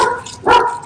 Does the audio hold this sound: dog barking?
yes